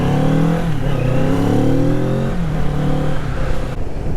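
Kawasaki Z650 motorcycle engine accelerating up through the revs, a steady mid-pitched drone that climbs in pitch, dips briefly at a gear change and climbs again, recorded close and loud with no talking.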